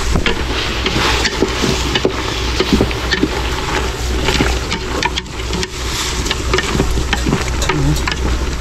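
Tomatoes sautéing in a pan, with a steady close sizzle and frequent scraping and stirring throughout, no voices.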